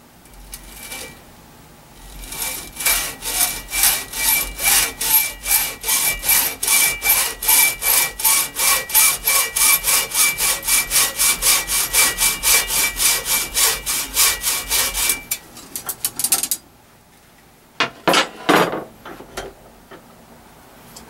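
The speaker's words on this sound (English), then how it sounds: "So I'm cutting as close to the vise as possible." A hacksaw cuts through a soft metal antenna gamma tube clamped in a vise with rubber-padded jaws, a fast, even rhythm of rasping back-and-forth strokes up close, then a pause and a few final short strokes.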